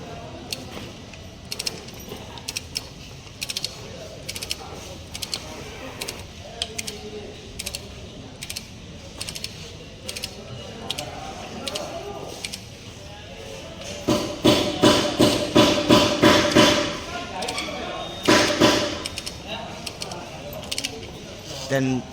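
A hand wrench is tightened clockwise in a basic-tools workshop demonstration, giving rapid ratcheting clicks up close, with denser louder bursts in the second half and a voice speaking alongside.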